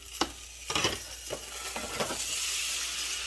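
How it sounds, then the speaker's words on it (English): Dumplings fry in a pan with a loud crackling sizzle, while a few sharp sputters and scrapes of stirring come early on. The sizzle swells into a steady hiss toward the end, close up with no talking. "Frying dumplings."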